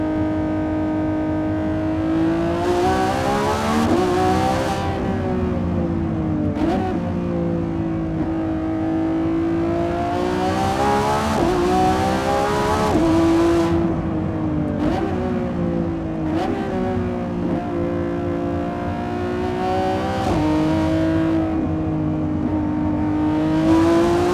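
A 2025 Lamborghini Revuelto V12 on a canyon drive screams up toward 9,500 RPM, again and again. Each loud climb breaks off with a sharp shift or lift before the engine pulls hard once more.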